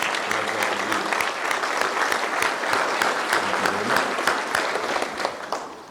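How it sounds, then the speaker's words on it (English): An audience at an employee and officer of the month breakfast gives two honored mothers a round of applause: dense, steady clapping from many hands that holds strong for several seconds before tapering slightly at the end. "Just give them a round of applause, both of them"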